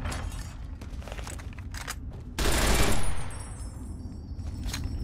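A light machine gun fires in Fallout: New Vegas, a dense, loud burst of rapid shots lasting about a second amid background game noise and scattered earlier shots.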